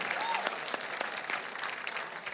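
Applause for donors at a gala fundraising auction, a steady patter of many hands clapping at moderate volume in an indoor hall, with a brief voice over it.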